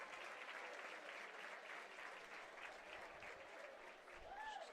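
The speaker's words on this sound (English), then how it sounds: "The applause from the crowd." Steady applause from the crowd at a college softball game between South Carolina and Clemson, a broad wash of clapping heard from a distance that continues throughout, with a commentator speaking over it.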